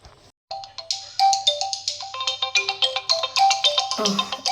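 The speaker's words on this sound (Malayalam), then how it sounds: "ഫോൺ ബെല്ലടിക്കുന്നു" A mobile phone ringtone plays a bright, repeating electronic melody of short tonal notes, loud and close, with a brief pause near the start before the tune continues steadily.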